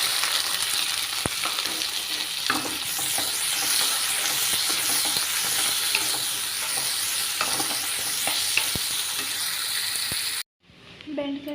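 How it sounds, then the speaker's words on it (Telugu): Onions, red chillies and mustard seeds fry in hot oil for okra fry, a loud, steady sizzle with stirring scrapes, cutting out abruptly near the end. "కట్ చేసుకున్న ఉల్లిగడ్డలు కూడా వేసేస్తున్నానండి."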